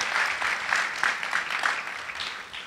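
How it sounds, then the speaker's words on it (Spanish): Congregation applause during a church service, a dense, soft wash of many hands clapping at once, continuous and fairly distant, holding steady before easing slightly at the end. "Vamos a dar un aplauso de honra."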